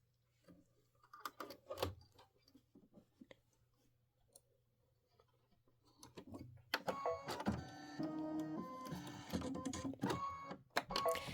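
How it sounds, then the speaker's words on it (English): A machine stitches out a quilting stitch on a Kimberbell quilt block. After a few quiet clicks, a busy, rhythmic mechanical clatter starts midway and runs on loudly and close. "go ahead and do your quilting stitch. This is 3 minutes of stitching."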